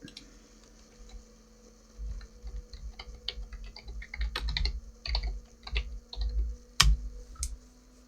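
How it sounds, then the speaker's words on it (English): Fingers typing on a computer keyboard, irregular bursts of close clicking keys and thumps that grow busier midway, with a faint steady hum underneath. "Typing ASMR."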